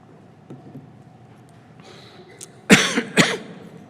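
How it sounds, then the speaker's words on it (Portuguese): Two sharp coughs in quick succession near the end, preceded by faint rustling and a soft breath in a quiet room. "A tosse faz parte disso, eu sei"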